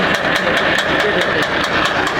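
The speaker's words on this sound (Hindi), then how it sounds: "ये ट्रैक्टर अपना आ गया 75 क्रॉस" A 75-model tractor engine chugs loud and close, with a steady, fast rhythmic beat under an even mechanical roar and no talking.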